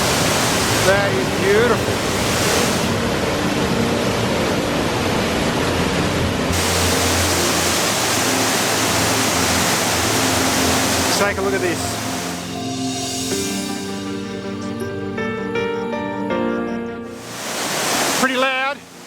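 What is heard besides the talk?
waterfall cascading across multiple levels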